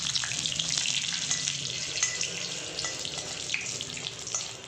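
Dried red chillies frying in oil with browned urad dal, a close, steady hiss of sizzling with faint crackles and occasional stirring.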